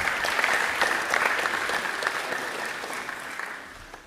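Audience in a school chapel at a Veterans Day service clapping, a dense steady round of applause that fades slightly toward the end.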